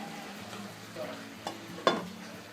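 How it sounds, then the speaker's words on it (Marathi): A pot of dal with eggplant curry bubbles at a boil, a low steady simmer broken by a few distinct plops and pops near the end of the brief moment. "छान अशी उकळी आलेली आहे या डाळ वांग्याला"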